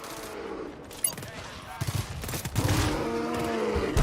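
Sentry turrets in the co-op shooter GTFO fire rapid bursts of automatic gunfire, clattering loudly and unevenly amid game noise, with a voice talking briefly.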